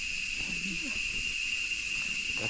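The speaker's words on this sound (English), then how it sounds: "That's those are howler monkeys." Howler monkeys call from a distance in a Costa Rican rainforest, low guttural roars rising faintly beneath a constant high insect drone, with a voice murmuring softly.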